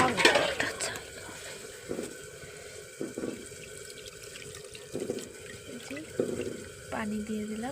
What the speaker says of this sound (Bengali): পানি দিয়ে দিলাম, মেখে নিয়েছি।